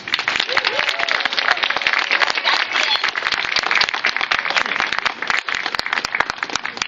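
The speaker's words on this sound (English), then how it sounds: "One more round of applause." A crowd gathered outdoors for a mural dedication in Chestnut Hill applauds steadily, with many sharp, overlapping claps forming a loud, continuous wash that holds for the whole stretch.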